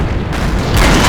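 Heavy, loud cannon fire booms in a tank battle game involving a KV-4, with a dense, rumbling blast that swells louder toward the end of the short burst.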